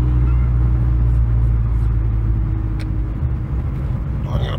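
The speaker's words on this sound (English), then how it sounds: "That turbo sounds gnarly." A turbocharged BMW N55 engine, in a car with an 8HP45X transmission swap, runs while driving, giving a steady, loud low rumble and drone from inside the car with faint higher whines.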